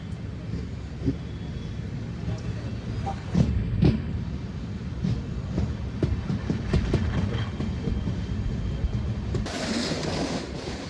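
Island Express passenger train from Kanyakumari to Bengaluru rolling through Aluva station in Kerala, a steady rumble with clattering wheel beats and a brief higher hiss near the end, heard up close without speech.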